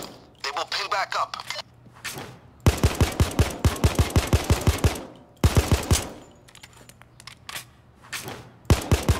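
Bursts of rapid gunfire from weapons being test-fired in a Payday 2 shooting room: a short volley, then a long steady run of close, loud shots, then more scattered bursts. A voice talks in between.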